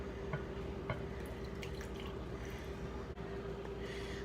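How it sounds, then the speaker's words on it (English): Brine poured into a jar packed with cabbage for sauerkraut, a steady close trickle and fill of liquid with a few drips, running continuously without talk. "now that the jar is full and all of my cabbage is in it, I'm going to pour in the water,"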